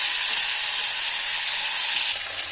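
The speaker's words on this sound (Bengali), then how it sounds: "এই যে চিংড়ি মাছটা ভেজে নিচ্ছি" Prawns fry in hot oil in a wok, giving a dense, steady sizzle that stays close and loud throughout with no talking.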